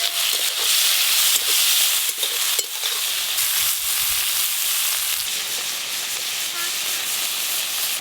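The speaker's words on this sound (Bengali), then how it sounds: "চিংড়ি পটলের জন্য চিংড়ি মাছগুলোও ভেজে নেব" Salted, turmeric-coated prawns frying in hot oil, a dense, even hiss and sizzle close up, with some stirring early on and no voices.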